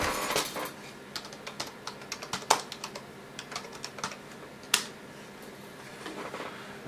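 Typing on a computer keyboard, a quiet, close run of irregular key clicks with a few sharper, louder taps, and no voices over it.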